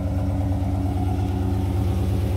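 Dodge Charger 392 V8 idling nearby, a steady deep rumble with a loping low pulse that holds evenly throughout, no talk over it.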